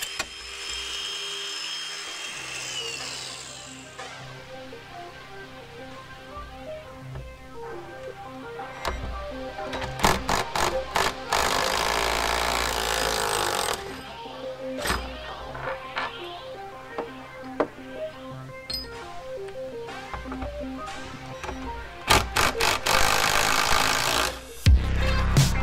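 Power tools and hand tools work loose the subframe bolts on a stripped Mk1 VW Caddy donor car, with bursts of whirring, ratcheting and clanking that come in loud, uneven spells between quieter pauses.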